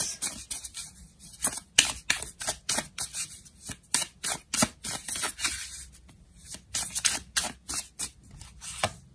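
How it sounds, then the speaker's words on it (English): Tarot cards are shuffled and laid out in a series of crisp, close riffling and slapping bursts, repeating in a quick uneven rhythm with no talking. "Pile on some more cards."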